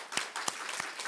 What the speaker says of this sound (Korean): 우리 박수 쳐서 위로와 격려 한번 했습니다.